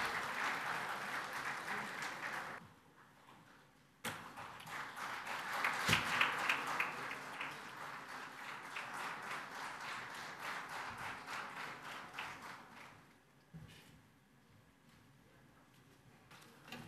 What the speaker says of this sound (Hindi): ज़ोरदार तालियों की दरख्वास्त है।